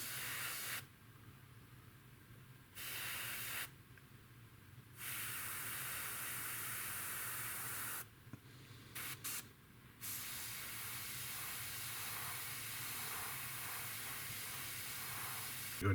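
Spray paint hisses in several long bursts over a mask on a Tamiya P-47M model kit, each spray steady and close, separated by short pauses of quieter room noise.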